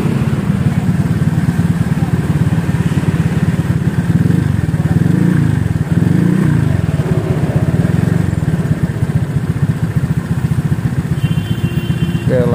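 A motorcycle engine idles with its exhaust note, a steady close rumbling putter that stays loud and unbroken throughout, with light mechanical clatter over the top.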